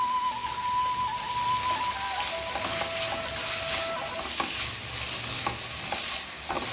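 Crushed shallots sizzle steadily in a pan for a squid stir fry with coconut in Kerala style, while a utensil stirs with scattered scraping taps over the continuous frying.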